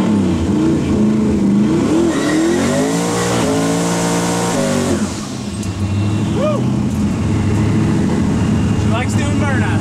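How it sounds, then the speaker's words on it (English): A 1971 Camaro fitted with a Nelson Racing Engines 372 twin turbo revs loudly and close, its engine note rising and falling through repeated throttle blips, with voices talking over the rumble. "Car is a 71 Camaro. Nelson Racing Engines 372 twin turbo."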